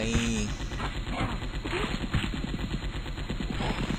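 Rapid gunfire bursts from the Epic Defense tower-defense video game, dense and continuous over busy game music and effects, with a voice speaking over the shooting.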